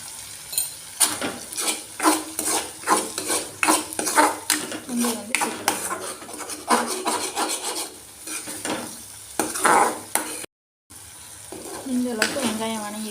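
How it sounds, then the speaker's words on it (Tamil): Masala sautéing in oil in a pan for a Tamil sundal kulambu, with repeated scraping stirs of a spoon against the pan over a steady sizzle, brief dropout near the end, then stirring resumes. "மசாலா வந்து நல்லா எண்ணெயிலேயே வணங்கட்டும் அந்த பச்சை வாசனை போகிற அளவுக்கு நல்லா வணக்கிக்கோங்க"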